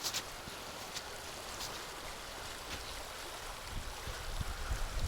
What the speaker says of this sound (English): We're at a more serene bit of the river.